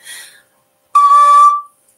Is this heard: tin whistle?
yes